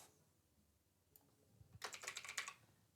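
Quick keystrokes on a computer keyboard while a Python program is being written, a short, close, clicky burst after a near-silent stretch.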